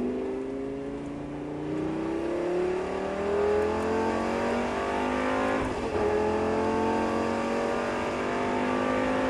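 A Lamborghini Gallardo pulls at full throttle on a track, its engine rising through the revs with a brief shift around the middle before climbing again, loud and sustained from inside the car without speech.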